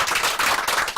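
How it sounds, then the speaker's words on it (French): Audience in a comedy show clapping, a brief burst of dense, close applause lasting about a second. "J'aimerais qu'on applaudisse ma poule"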